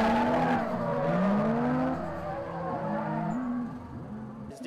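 A race car drifts at an extreme auto show, its tires squealing in long wavering sweeps over a revving engine, loud and close, sliding through several turns.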